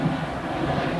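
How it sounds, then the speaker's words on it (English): A steady, broad roar of an airplane engine as the plane comes in to land near Haarlem, continuous and fairly loud, with no voices. "Planes coming into land"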